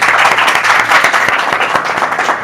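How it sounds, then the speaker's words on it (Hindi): A church congregation bursts into loud, sustained applause during a Hindi-language worship service, a dense, steady clatter of many hands clapping together up close with no voices on top. "एक बार फिर से प्रभु की महिमा में जोरदार तालियां तो कर सकते हैं।"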